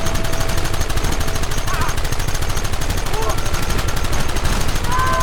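Rapid, unbroken gunfire in the video game Red Dead Redemption, a loud rattling stream of shots at a fast steady rhythm, with a voice talking over it in places.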